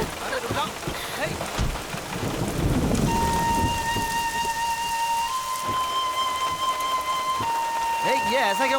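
Heavy rain falls continuously, with a rumble of thunder and a sustained electronic tone partway through; voices are heard briefly.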